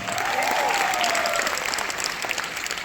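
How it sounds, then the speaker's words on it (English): An audience claps together in dense, sustained applause, with a faint whoop rising above it near the start. "Give yourselves a round of applause for choosing Jeunesse."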